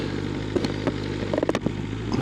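A BMW motorcycle engine idles steadily at a high tick-over of about 1,600–2,000 rpm with a low, throbbing rumble, punctuated by a few sharp clicks and clatters.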